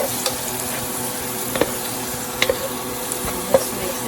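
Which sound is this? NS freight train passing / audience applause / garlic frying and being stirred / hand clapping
garlic frying and being stirred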